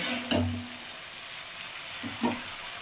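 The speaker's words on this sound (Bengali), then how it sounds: "শাকটা দিয়ে কিন্তু এগুলো সবজিগুলো মশলাগুলো একটু মাখিয়ে নিতে হবে এইভাবে" Spinach, vegetables and spices stirred together in a small pan (kadai) for Bengali pui shak chochori, with two brief scraping, sizzling stirs over a quiet low sizzle.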